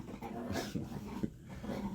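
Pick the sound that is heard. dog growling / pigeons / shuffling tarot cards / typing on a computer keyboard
dog growling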